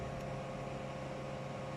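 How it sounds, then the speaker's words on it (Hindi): A kitchen blender runs at steady speed while blending an energy shake, a continuous dense whir with no pauses. "अभी हम इसको करेंगे ब्लेंडर में ब्लेंड"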